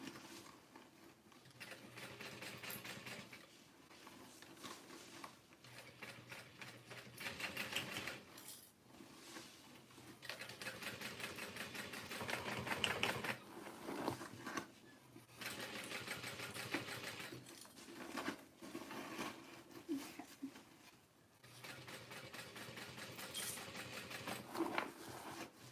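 A sewing machine stitches a tote bag in steady bursts of fast, even needle chatter, with short pauses between runs while the fabric is readjusted.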